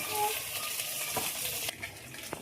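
Potatoes fry in a pan with a constant sizzle while a utensil stirs and scrapes, ending in a few sharper clinks.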